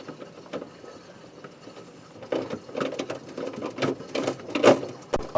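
A nut driver removing the bolts on a refrigerator's back panel, giving faint irregular ratcheting clicks and metallic scrapes that grow somewhat louder toward the end, close and without talk.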